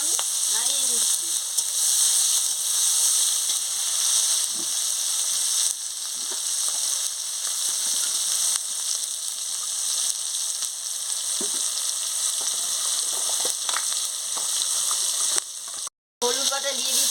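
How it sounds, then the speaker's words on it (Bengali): Green chilies frying in a pan for a silver carp fish curry, giving a steady broadband sizzle with occasional soft scrapes of stirring, close and continuous with no talk. "কাঁচা লঙ্কা দিয়ে দিচ্ছি, দিয়ে ভালো করে নাড়িয়ে নিচ্ছি।"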